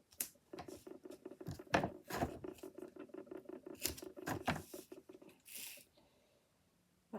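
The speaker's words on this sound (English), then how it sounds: "That rattling noise is my die cutting machine now." A die cutting machine rattles away nearby in a craft room, giving a rapid, continuous run of light mechanical clatter with a few louder knocks, then trailing off into near silence toward the end.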